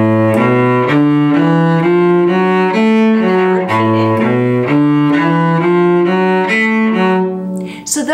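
A cello plays the third phrase of a bluegrass tune, a steady run of bowed notes moving stepwise up and down in an even rhythm, loud and close with no talking.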